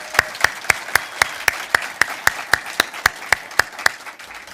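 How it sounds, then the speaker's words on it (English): Steady rhythmic clapping from an audience at a celebration event, sharp regular claps in a quick even beat, fairly close and alone, with no talking. "I think we should celebrate that with some applause"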